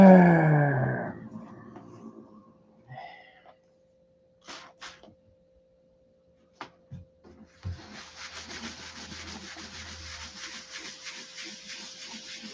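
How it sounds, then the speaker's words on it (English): A circle of wood being sanded by hand, faint scattered scrapes and taps giving way to a steady, soft rasping rub that continues to the end. "Sand a circle."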